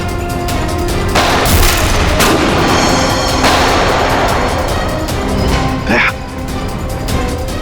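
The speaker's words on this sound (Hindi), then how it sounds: "गोलियां चला कौन रहा है?" Loud, dense gunfire rings out in a TV crime drama shootout, with heavy overlapping shots and booming blasts filling the scene for several seconds, mixed with dramatic background sound.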